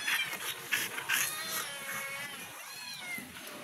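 Two cats meow repeatedly outdoors, their high wavering cries overlapping at close range, with one cat drawing out longer, rising calls.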